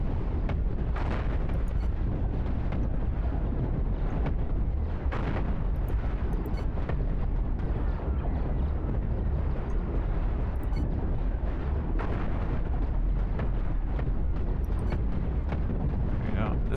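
Dense, continuous booming and crackling explosions from the space combat game Cosmoteer as a ship fires lasers and missiles, loud and unrelenting with heavy rumble throughout, and someone talking over the battle.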